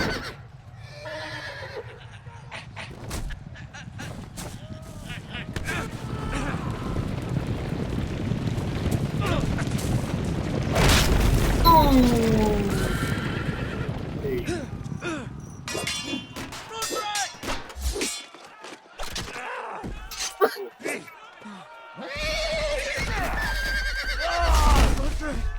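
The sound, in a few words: horse neighing and hooves in Game of Thrones video game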